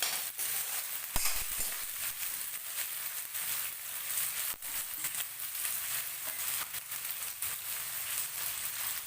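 Onions frying in oil for chilli fish, giving a soft, steady sizzle and crackle at low volume with occasional light stirring clicks and no voices.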